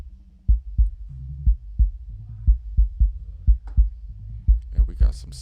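Bass drum captured by the outer microphone alone, softer and boomier low thumps in an even beat. Faint voice and noise creep in near the end.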